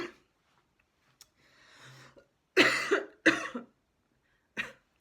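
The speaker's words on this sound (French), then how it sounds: "je tousse encore un peu" A woman coughs during a French-language astrology reading: a soft breath and faint throat noise, then two sharp, close coughs in quick succession and a lighter third cough a moment later.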